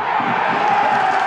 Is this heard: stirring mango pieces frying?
no